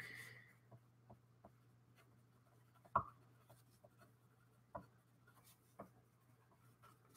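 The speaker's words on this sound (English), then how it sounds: "Maybe I'll write that down." A pen scratching across paper while a note is jotted down, quiet and close, with soft irregular strokes and a few sharper taps against a low steady hum.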